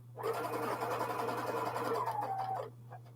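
A sewing machine stitches a seam held open under the needle, whirring steadily up close for about two and a half seconds before stopping, over a faint low electrical hum.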